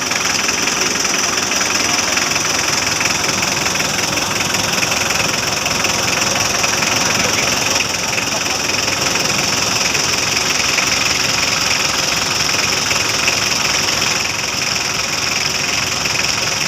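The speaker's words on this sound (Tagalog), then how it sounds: "vibration ng makina oh" A Mitsubishi L300 engine idles steadily and loudly at close range, with a constant strong vibration and faint knocking running through the whole stretch, and no voices.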